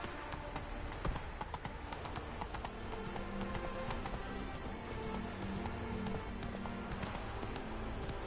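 Horse hooves clip-clop steadily on hard ground in The Witcher 3 video game, a fast even trot close up that runs throughout, with faint game ambience and no voices.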